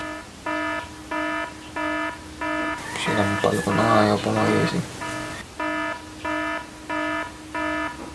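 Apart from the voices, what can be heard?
phone alarm ringing loudly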